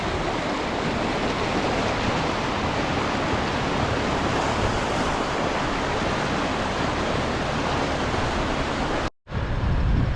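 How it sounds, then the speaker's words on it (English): The Eucumbene River in the Snowy Mountains flowing strongly, a loud, continuous close-up rush of water that fills the scene without a break before cutting off abruptly near the end. "I'm guessing you can probably hear that. Eucumbene River is right here."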